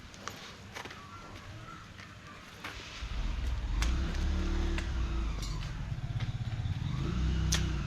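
A motorbike engine rises out of quiet footsteps and light clicks, then holds a loud, close rumble as it passes.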